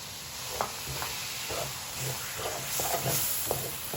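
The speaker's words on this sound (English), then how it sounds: "Mix it all in and saute for a few minutes till it starts releasing a little bit of oil to the sides" Pureed tomatoes stirred and sautéed in a pan for a spicy coconut eggplant dish, with a soft steady sizzle and faint scraping stirs every half second or so, quiet and close.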